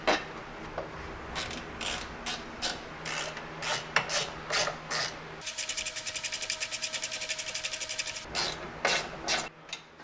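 A hand ratchet tightens bolts while a Rough Country tailgate table is installed on a Jeep. Slow, separate clicking strokes give way to a quick, even burst of ratcheting near the middle, then spaced clicks return, all close up.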